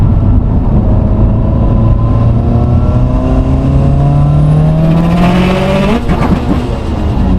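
A stock-motor pulling vehicle's engine revs hard, roaring loud and close with a steadily climbing pitch that surges before easing near the end, no voices over it.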